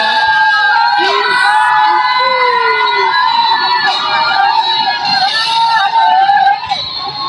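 Fans scream and cheer as Kalingap Ido makes his entrance, a loud, steady wall of high-pitched shrieks, whoops and yells that carries on throughout, with excited voices rising and falling over the crowd.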